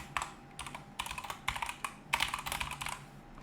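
Someone types on a computer keyboard in quick, uneven bursts of close key clicks with short pauses between them, the taps clear and crisp throughout.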